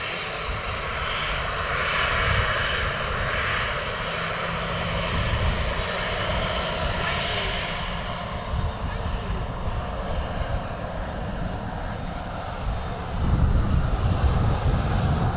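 Ryanair jet airliner engines rumble steadily at an airport, a loud broad roar with wind buffeting the microphone, swelling louder near the end.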